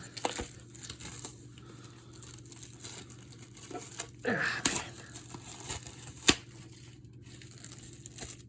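Plastic wrapping is peeled off a Terminator 2D No Fate PS5 game case, a soft crinkling and tearing with a louder crackling pull midway and a sharp snap near the end, close and alone.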